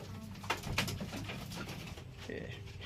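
Soft, low pigeon cooing repeats faintly in the background, with a steady murmur of ambient noise.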